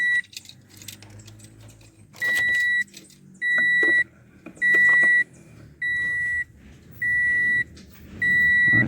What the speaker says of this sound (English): it's making that sound because the door is open while I'm doing this.